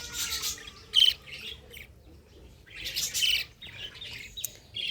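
Pet lovebirds in a small backyard colony give bursts of high chirps and squawks, twice in clustered flurries separated by quieter pauses, fairly close with no talk.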